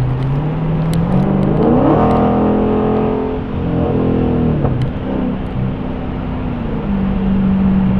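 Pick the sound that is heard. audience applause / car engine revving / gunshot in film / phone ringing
car engine revving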